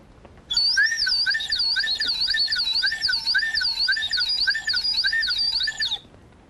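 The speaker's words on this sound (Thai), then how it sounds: "นี่เป็นไม้ไผ่ที่เรามาทำเป็นเหมือนเสียงนกร้อง" A bright, warbling bamboo bird whistle blown steadily for about five seconds, trilling and rising and falling in repeated chirping phrases, close and fairly loud.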